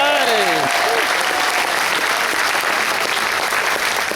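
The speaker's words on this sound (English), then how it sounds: "give them one more round of applause for the Marines." Loud, sustained applause from a large crowd fills the whole stretch, and a voice fades out under the clapping at the start.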